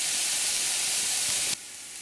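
Garlic and onion sautéing in a pan for pork afritada, a steady loud sizzle and hiss that drops abruptly to a quieter simmer near the end.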